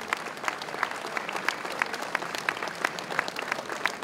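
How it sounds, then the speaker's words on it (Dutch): A hall audience applauds at an anniversary celebration, steady dense clapping from many hands at moderate distance, continuous and even without any talk. "ik wil toch nog 1 keer een applaus voor Mandy en de studenten en Betje Stevens"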